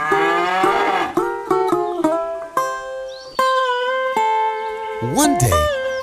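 Cartoon cows in a quarrel give a string of drawn-out, tonal moos and bellows, loud and close, probably voiced by people imitating cattle, with one rising, warbling call near the end.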